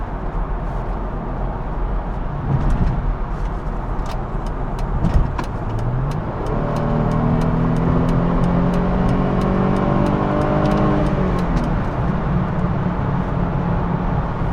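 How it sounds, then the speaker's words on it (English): A car engine drones steadily while driving, then rises in pitch through a couple of gear-like upshifts as it accelerates hard, with clicking and ticking sounds throughout and no talking. "this car is a freaking monster."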